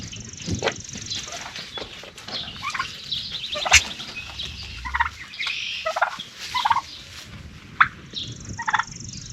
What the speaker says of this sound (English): the other group of birds that we have out here are the turkeys